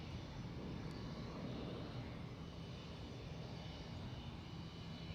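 A British Airways jet airliner on the taxiway at Schiphol gives off a faint, steady engine rumble and whine that stays constant from start to finish.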